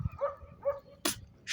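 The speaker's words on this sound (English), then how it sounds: "I didn't know a dog would be in my background" A dog gives a few soft barks in the background outdoors, two short distant yaps about half a second apart, followed by a brief louder rustle or knock.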